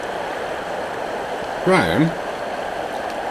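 Broadband rushing of a steadily flowing stream at Bents Basin, continuous and moderately loud, with a brief voice heard partway through.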